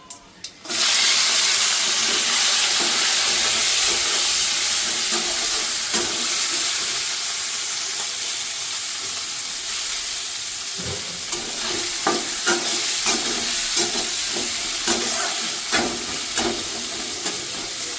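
Small crabs fry in a pan with cumin and ginger paste, giving a loud, continuous close-up sizzle and hiss, with stirring scrapes breaking through throughout.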